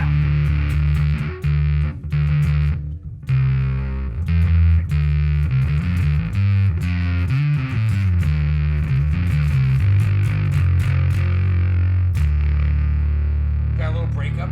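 Electric guitar played through a JHS Crimson 1992 Russia fuzz pedal with a thick, fuzzy distorted tone, sustained chords and riffs with brief gaps, loud and close throughout.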